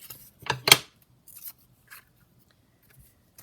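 Scissors snip along the torn edge of a paper strip in a few quick, close cuts, one louder crisp snip followed by fainter small snips and pauses of near silence.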